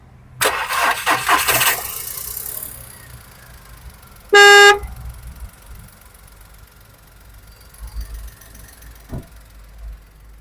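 A 2010 Volkswagen Polo petrol car in good condition cranks and catches in a short burst, then settles into a very quiet idle. One short horn toot follows a couple of seconds later.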